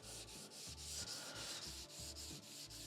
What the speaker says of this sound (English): I'm not putting any pressure on the sandpaper as such.